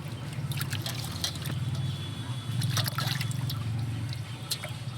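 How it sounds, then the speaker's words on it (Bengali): Water trickles and splashes steadily as fish is washed with salt in a kitchen, with faint clinks of handling and no talk. "এবার ধুয়ে নেবে ভালো করে নুন দিয়ে, ভালো করে ধুয়ে নিচ্ছে মা।"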